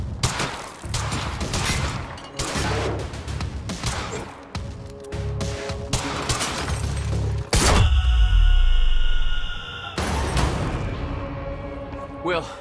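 Gunfire in the video game Quantum Break: loud bursts of rapid shots and heavy thumps repeat for several seconds, mixed with shouting voices, then a deep rumbling blast and ringing tone before more shots.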